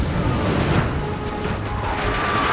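Grenadiers' grenades exploding in Total War: Napoleon, a dense continuous wash of blasts, crackle and battle noise, loud and unbroken with no distinct single bursts.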